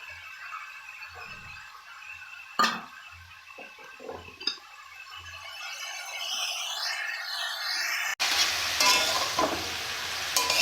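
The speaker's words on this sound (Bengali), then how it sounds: "এবার একটু এটা ভাজা ভাজা হয়ে যাবে থেকে সামান্য জল বেরিয়েছে জলটা শুকিয়ে যাবে এবং ভাজা হয়ে যাবে" Spice paste with tomato and green chilies cooking in a pan: soft, low sizzling with a few utensil knocks and scrapes, then a sudden louder, fuller sizzle over the last couple of seconds, close and without talk.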